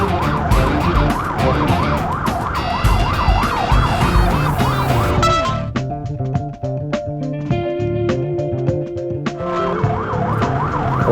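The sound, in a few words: ambulance siren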